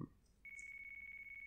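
A phone ringtone in the video game Yakuza 4 trills as a steady high electronic tone, fairly quiet and continuous, after a brief softer sound at the start.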